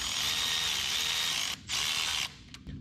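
A ratchet tightens the fan belt on a 1992 Toyota pickup engine with rapid, close, steady clicking and buzzing in two sustained bursts separated by a short pause, ending in a few scattered clicks.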